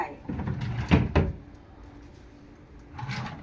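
A drawer in a villa bedroom slides open with two quick, close knocks and scrapes, followed by quieter handling noise and a softer rustle near the end.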